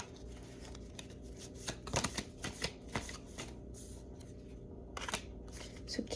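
Tarot cards are shuffled and drawn from the deck, giving a quiet, steady papery riffle with sharper flicks and slaps scattered through the run.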